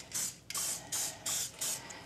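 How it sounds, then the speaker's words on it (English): Pam cooking spray sprayed onto a baking pan in a kitchen, four short hissing bursts in quick succession, close and clear with no talk. "Now we're going to spray our pan with Pam."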